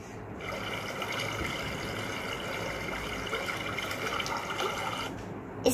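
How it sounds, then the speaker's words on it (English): Steady flowing water from a stream, a continuous rushing wash that holds at an even level throughout with no other sounds over it. "Now it's water stream sound."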